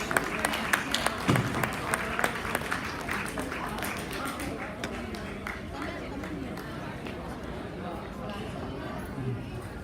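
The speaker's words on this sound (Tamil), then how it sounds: "நாம் அவரை பெரிய கைத்தட்டலுடன் வரவேற்போம்." An audience claps together to welcome a speaker at a South Florida Tamil association event, a dense continuous patter of applause mixed with crowd murmur that holds at steady loudness throughout.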